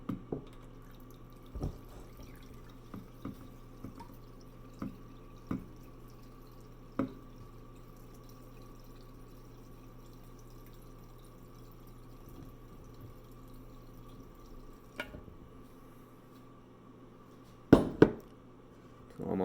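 Cold water poured from a refrigerated jar with a spout, a faint trickle with scattered drips and a few sharper clinks, quiet and close.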